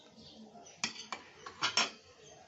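Ven pongal being stirred and mixed in a pot, with a few sharp metallic clinks and scrapes of a utensil against the pot, close and fairly quiet.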